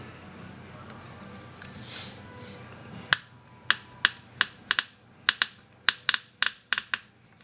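A blade scores and snaps a pin header strip for a breadboard, sharp close clicks in a loose series of about a dozen after a muffled stretch at the start.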